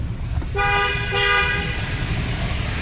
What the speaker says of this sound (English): Always gotta honk while driving through a tunnel.